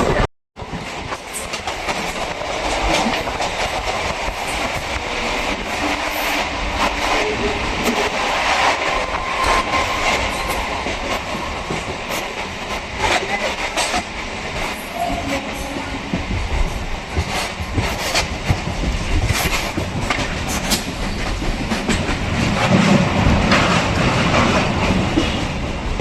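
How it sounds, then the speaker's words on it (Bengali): A Sealdah–Barasat suburban local train rolls along steadily, wheels clattering over rail joints with a continuous loud rumble, occasional squeals and rattling carriages heard from on board. "সেই সাথে আমাদের ট্রেন ছেড়ে দিয়েছে"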